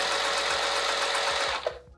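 A sewing machine runs steadily while stitching a zipper, its needle whirring in a fast continuous rhythm, close and loud, before slowing and stopping near the end.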